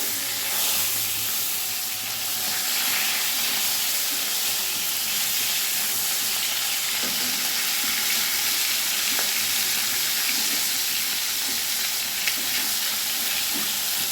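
Pieces of rui fish fry in hot oil in a pan, a steady dense sizzle and crackle that holds evenly and alone throughout.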